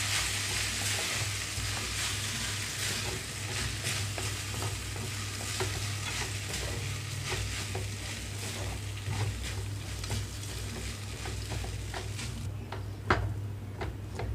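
Cooked vermicelli (semiya) stirred in a hot pan for lemon pulihora, a steady close sizzle with continuous scraping strokes and no voices.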